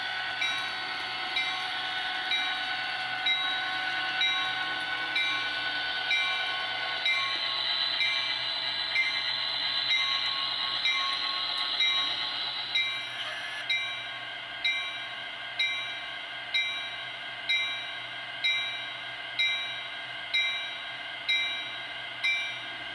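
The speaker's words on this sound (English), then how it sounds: "Starts ringing its bell when approaching the final track." A model train bell rings in a steady repeating pattern, bright and clear, over the low rumble and whir of a small train running along its track.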